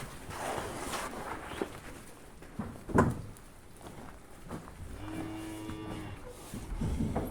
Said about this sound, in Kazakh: Мына жерде бір сиыр тұр.